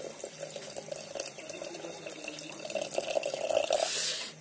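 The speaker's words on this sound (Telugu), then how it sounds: "సో ఇది చింతపులుపు నీళ్ళు. చింతపులుపు వేసుకోవాలి మనం దీన్ని." Tamarind water poured into a cooking pot for a tribal dal dish, a close liquid splash and trickle that swells louder toward the end, with no one talking.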